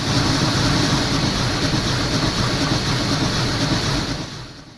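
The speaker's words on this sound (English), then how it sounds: "At lower speeds, you can hear a chuff produced from each of the 4 individual cylinders" Union Pacific Big Boy steam locomotive in Train Simulator Classic, a dense continuous rumble of rapid exhaust chuffs with clanking running gear, loud and steady before easing off at the very end.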